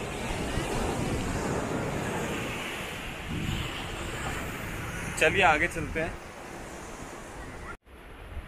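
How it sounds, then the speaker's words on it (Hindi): Ocean waves at Kovalam Beach, a busy public beach in Kerala, give a steady loud wash of surf and wind noise while someone speaks briefly over it, with a short gust and a rattle near the end. "चारों तरफ आप देख सकते हो पानी का वेव्स"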